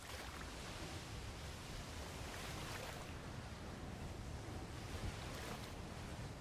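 Ocean waves wash around a small ship in a video game: a continuous faint hiss of surf and wind with gentle swells in intensity, without any talking.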